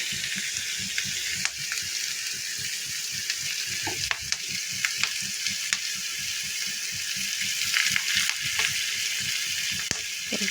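Onions and carrots fry in a pan for lemon rice, a steady close sizzle broken by frequent scraping stirs of a spoon, with no voices.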